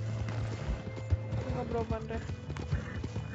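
Horse hooves clip-clop with a whinny from a horse in the video game Red Dead Redemption 2, alongside gunfire, while players talk over it.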